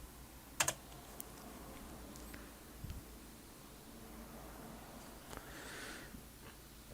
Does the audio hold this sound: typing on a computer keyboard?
yes